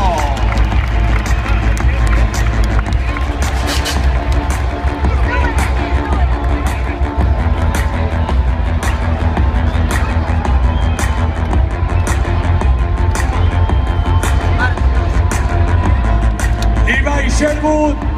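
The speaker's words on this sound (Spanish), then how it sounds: "¡El aplauso de Madrid!" A Madrid stadium crowd applauds and roars for a freestyle motocross rider, a dense, steady wall of clapping and cheering lasting throughout, with a commentator's voice faintly underneath.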